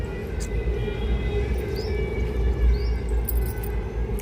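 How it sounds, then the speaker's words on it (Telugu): A train rumbles by at a distance from a small garden, giving a continuous low roar with faint squealing above it. The sound stays moderately loud throughout and is heard without speech. "మళ్ళీ వచ్చింది, వెంటనే వచ్చింది రైలు"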